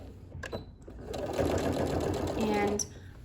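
A sewing machine stitches binding onto a hexagon quilt, a steady close motor whir building after a few soft clicks and faint handling noises, with brief talk at the start.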